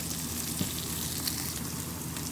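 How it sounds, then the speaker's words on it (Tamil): Green chili and curry leaves fry in hot oil in a pan, a constant soft sizzle and hiss with faint crackles and no talking. "ஆட் பண்ணி இதெல்லாம் நல்லா வதங்கட்டும்"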